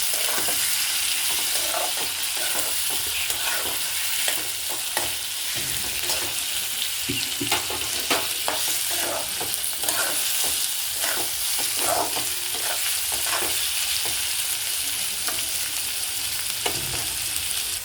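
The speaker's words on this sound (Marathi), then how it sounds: "आता आपण टोमॅटो टाकूया। टोमॅटो चांगला मऊ होतोपर्यंत परतून घेणार आहोत फोडणीमध्ये।" Tomatoes fry in hot oil with curry leaves in a tempering, a steady close sizzle broken by frequent scraping stirs of a spatula throughout.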